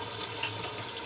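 Water steadily filling a camper or RV fixture during spring unwinterizing, a continuous close hiss of running water with no breaks.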